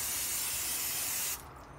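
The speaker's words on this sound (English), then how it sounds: "We're going to spray this." An aerosol can sprays in one steady, close hiss for over a second, then cuts off abruptly, leaving quiet room tone.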